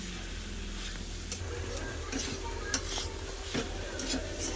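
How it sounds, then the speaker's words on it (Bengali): Bottle gourd and cauliflower sautéed with turmeric and cumin powder in a pan: a constant low sizzle runs under repeated spoon strokes and light scraping against the metal, all close by. "সবজির সাথে মশলাটা ভালো করে কষে নিয়েছি"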